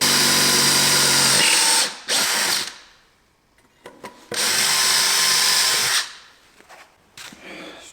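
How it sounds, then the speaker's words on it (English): A power drill bores holes for a bed frame in a Renault Trafic campervan conversion, with two long loud whirring runs broken by a quiet gap containing a few clicks and knocks, then the motor winding down. "Drilled all of them now."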